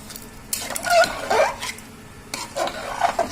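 A spoon scrapes and stirs Assamese chicken curry in a metal pot, making irregular rasping strokes and clinks in two bursts with a pause between, close and with no talking.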